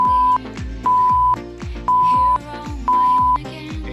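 Workout interval timer sounding four sustained electronic beeps at a steady pace of about one per second, each half a second long, over background music.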